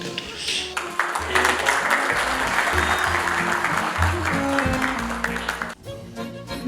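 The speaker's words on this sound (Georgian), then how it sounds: "მის დასახელებას მაინც ტაში და ოვაციები მოყვა" Sustained applause and ovation fill a council meeting hall, dense clapping from a large crowd that runs steadily for several seconds before briefly dipping and picking up again.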